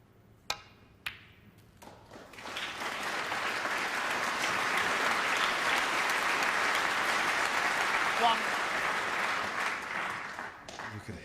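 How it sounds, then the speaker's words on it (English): Snooker crowd in the arena at Telford swells into applause after a couple of sharp ball clicks, building to a steady, sustained clatter of clapping that holds for several seconds before tapering off. "You could hear the applause building there"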